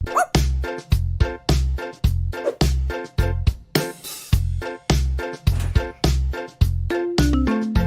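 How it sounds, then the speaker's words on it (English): A dog barks repeatedly in a steady rhythm, each short bark sitting over a bouncy musical backing in a children's alphabet song, loud and close with no talk. "D for dog."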